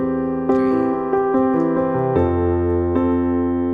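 Worship piano chords are struck in a steady quarter-note pulse, about a dozen hits with a bass note walking lower midway, close and clear with no talking.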